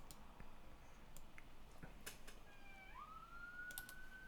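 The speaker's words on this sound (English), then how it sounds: "We're going to have sirens here for just a second." A police siren passes outside, heard faintly through the walls as a rising wail that sweeps upward and holds, set against a steady low background hiss with a few light ticks.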